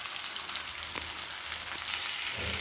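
Cucumber pieces fry in a pan with garlic, giving off a steady, quiet sizzle with occasional soft stirring clicks.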